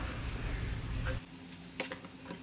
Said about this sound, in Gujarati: મેથીના પાન નાખીને આ રીતે ચમચી વડે બધું એક વખત સરસ મિક્સ કરીને સાંતળીને